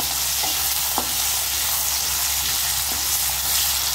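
Cut green chillies frying with garlic and shallots in hot oil, giving a steady close sizzle with a few soft stirring clicks and no voices.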